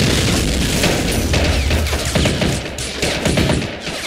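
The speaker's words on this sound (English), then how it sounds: "Providing covering fire now," Covering fire in a video game: loud, continuous rattling gunfire with heavy booming bursts throughout, close and dense, with no talking.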